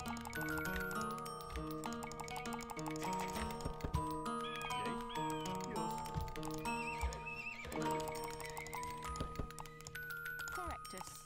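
Horses neighing and whinnying in the strategy game Age of Empires, several high, wavering calls over clip-clopping hooves and a busy backdrop of game music and effects, with a person talking throughout.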